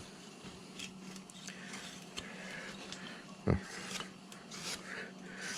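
A hand carving tool rasps and scrapes across wood as it is tapered toward the center line, soft intermittent strokes with one sharper knock midway, fairly quiet and close.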